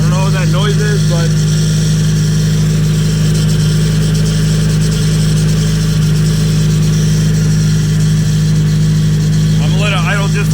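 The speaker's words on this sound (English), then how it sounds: "I'm gonna let it idle just for a little bit." A rebuilt Nissan KA24DET turbo engine idling with a steady, loud low rumble throughout and no clear revving, while someone talks over it near the start and end.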